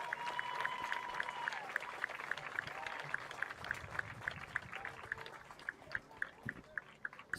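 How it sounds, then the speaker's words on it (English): Crowd applause at a high school men's lacrosse game as an injured player is carted off the field, a steady patter of clapping across the whole stretch with regular rhythmic ticks running over it. "Becker back up and in the cart as he is being carted off the field"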